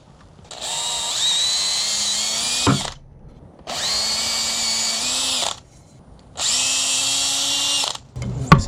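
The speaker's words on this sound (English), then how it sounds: "Just going to drill" A power drill whines loudly in three separate bursts of a couple of seconds each, drilling pilot holes in wood, with short pauses between, close by.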